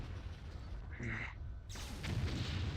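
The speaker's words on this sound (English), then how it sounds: "How do you keep eating the Gauss cannon rounds?" Heavy Gauss cannon rounds slam into a mech in the video game Mechwarrior 3, a loud rumbling boom that fades briefly before a second dense, crackling impact roars on continuously through the end.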